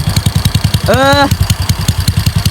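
Motorcycle fitted with an AOM exhaust pipe idling close up with a loud, choppy, pulsing thump, briefly revved once in a short rising blip before settling back to idle; no talking.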